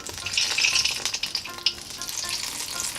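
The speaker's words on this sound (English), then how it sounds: "So now we're ready to fry. We put in our frittelle, a few at a time," Italian frittelle doughnuts dropped a few at a time into hot oil, a close, lively bubbling sizzle that swells and crackles steadily throughout, with no talking.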